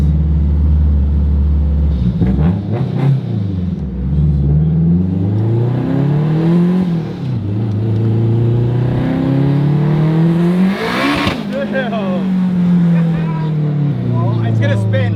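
Honda Civic Type R race build making 620 wheel horsepower revs hard and close, pitch sweeping up and down through repeated throttle blips and gear changes, with a voice talking over the engine.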